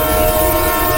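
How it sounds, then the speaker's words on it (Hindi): A train horn blares in one loud, steady, sustained tone, with low rumbling rail noise beneath it. "तभी पीछे से उस ट्रेन के हॉर्न की आवाज़ सुनाई देती"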